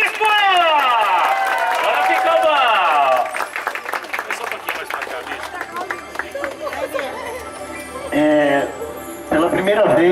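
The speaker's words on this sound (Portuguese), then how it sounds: "Palmas pro bispo!" Crowd at an evangelical gathering cheering and clapping for a bishop, loud massed applause and shouts with excited chatter mixed in, easing into scattered hubbub before a fresh burst of cheering near the end.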